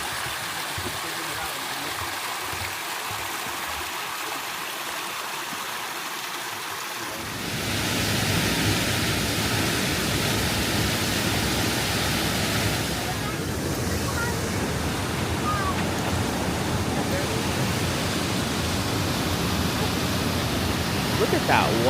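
Sol Duc Falls waterfall in Olympic National Park roaring as a steady broadband rush, quieter for the first seven seconds, then swelling to a loud continuous wash up close.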